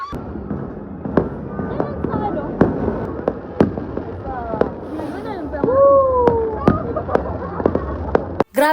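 New Year fireworks bursting overhead in a noisy street celebration, sharp cracks and pops going off in quick irregular succession, with whistling rockets, crowd babble and motorbike noise all around.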